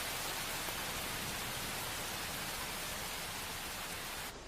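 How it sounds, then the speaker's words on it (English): Steady rain falls outside as a dense, even hiss, unbroken and fairly close throughout, ending abruptly. "it's raining outside"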